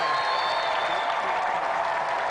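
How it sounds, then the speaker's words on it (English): Steady applause from a television studio audience at an arm-wrestling contest fills the whole stretch, a dense even wash of clapping without pauses. "Round of applause for Tony Duray."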